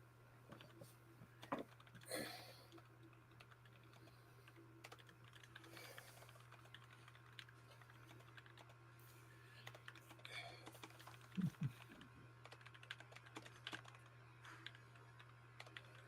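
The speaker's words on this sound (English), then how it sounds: "We're just typing." Quiet, continuous clicking of computer keyboard keys in bursts, faint and close, over a steady low electrical hum, with occasional soft voices in a room during a livestream.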